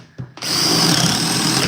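A DeWalt power tool cuts through wood with a loud, steady grinding whir after two brief knocks, running continuously and close.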